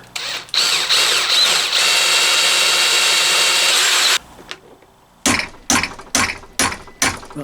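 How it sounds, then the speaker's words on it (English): Power drill boring out stuck screws on a Triumph Bonneville T140 engine during a rebuild: a loud continuous whirring run of about four seconds, a short pause, then several sharp, rhythmic bursts of drilling close by. "Just going to drill these a little bit just to give us a bit of clearance"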